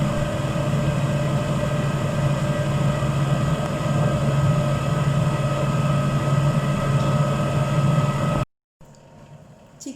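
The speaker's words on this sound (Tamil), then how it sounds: "சிக்கன் இப்போது கிரில் ஆகிட்டு இருக்குது." Convection oven running while grilling tandoori chicken at 180 degrees, a steady humming drone with a fan-like whir, constant and close, cutting off abruptly near the end.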